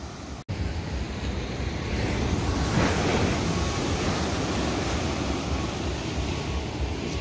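Ocean surf rolls onto the California coast in a steady, dense wash of breaking waves with wind noise, loud and continuous throughout.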